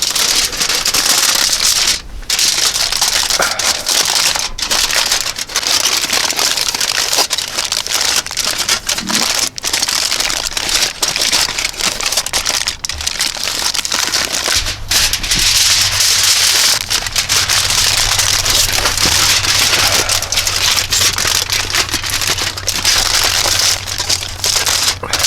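A wood fire burns in a stove inside a tipi tent, giving dense, loud, continuous crackling and popping with sharp snaps scattered throughout and a low hum joining partway through.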